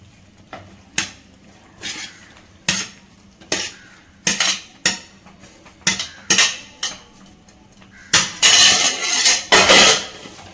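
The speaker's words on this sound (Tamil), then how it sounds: "நம்ம வந்து சிப்பி பாஸ்தா சேர்த்துக்கலாம்" Shell pasta is tipped into a pan of white sauce, giving a run of sharp clinks and knocks against the pan at an uneven pace, then a louder stretch of scraping and rustling near the end.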